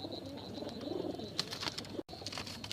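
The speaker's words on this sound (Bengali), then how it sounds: "প্রথম কবুতরটি এই যে একটা কবুতর" Pigeons in a loft at night, lit by a lamp during feeding, give soft, low repeated coos with a few brief sharper calls, fairly close and steady throughout.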